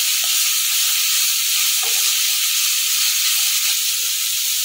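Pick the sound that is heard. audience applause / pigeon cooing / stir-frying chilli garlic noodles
stir-frying chilli garlic noodles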